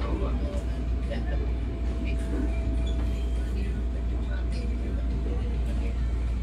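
Steady low rumble and rattle from inside a Pangrango passenger train as it pulls into its final station, a continuous close mechanical drone with faint squeaks and clatter throughout.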